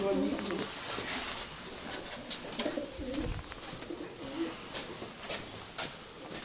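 Pigeons coo in a row of pigeon lofts, their soft, repeated throaty calls rising and falling at moderate distance while someone talks over them.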